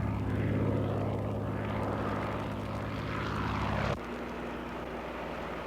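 Propeller airplane flying low overhead in a steady, loud drone that cuts off abruptly near the end, leaving a quieter engine hum.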